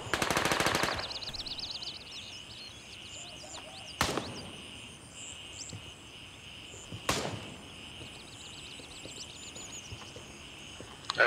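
Gunfire in the video game Gray Zone Warfare cracks nearby in sharp isolated shots: a short burst at the start, then single loud reports several seconds apart, over a background of buzzing insects.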